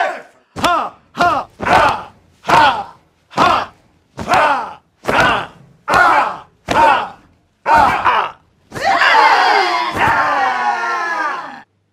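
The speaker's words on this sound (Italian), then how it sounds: "Fatemi sentire l'urlo dei guerrieri maori." A kitchen crew bellows a Maori-style warrior war cry, a series of about ten loud, rhythmic group shouts, each short and forceful, ending in one long sustained yell lasting several seconds.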